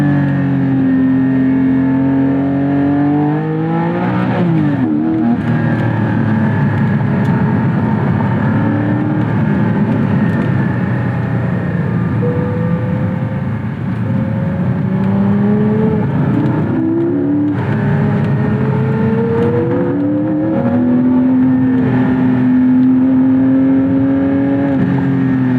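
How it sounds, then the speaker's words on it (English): Naturally aspirated Porsche Boxster Spyder engine revving hard with pitch sweeps rising and dropping through downshifts, a steady loud drone carrying throughout with no talking. "a naturally aspirated engine that encourages me to push the car hard and have fun with it. Something that makes me need to downshift and even do a little double clutch into first"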